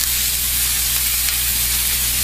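Vegetables charring over high heat in a hot pan, a loud, dense and continuous sizzle with a low steady hum underneath and no pauses or talking.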